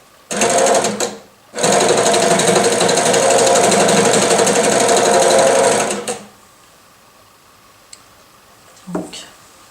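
A textile felting machine running in loud rapid needle-punching bursts, a brief start, a short pause, then about four and a half seconds of steady clatter before stopping, followed by faint handling noises.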